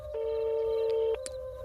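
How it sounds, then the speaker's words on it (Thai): A telephone ringback tone sounds as someone calls from outside a hotel: one steady electronic beep held for about a second, followed by a few faint clicks. "โทรไปมีเสียงตืดตืด"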